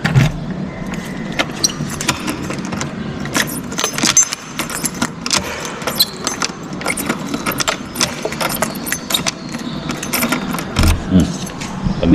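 Car keys jangling in repeated bursts, close and loud, over a low background of a car or engine nearby, with occasional faint voices.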